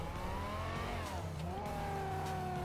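The engine of a Bravado Banshee in the video game GTA V revs loudly and steadily, its pitch sliding down and then climbing back up over a few seconds, with no talk over it.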